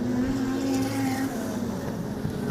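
Wingless sprint cars racing at Lismore Speedway during a 100-lap grand prix produce a steady, loud engine roar with a sustained whining drone that barely changes over a few seconds.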